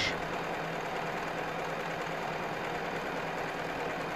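A Bernina 700D overlocker runs in a steady, continuous whir from start to finish, fairly loud and close, with no pauses or voices over it.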